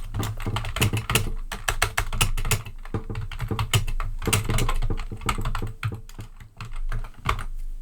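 A computer keyboard typed in rapid bursts of keyboard shortcuts, the thumb held on the Command and Windows keys while other fingers tap quickly, crisp clicks close up and alone.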